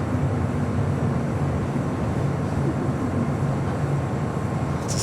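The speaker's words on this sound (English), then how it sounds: "It's a 787-9 Dreamliner." Boeing 787-9 Dreamliner airliner at LAX, a steady broadband engine roar that stays loud and even throughout with no voices.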